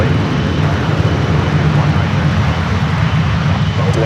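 Airliner on its takeoff roll from runway 1 right at San Francisco Airport, engines roaring in a loud, steady broadband rush that holds throughout.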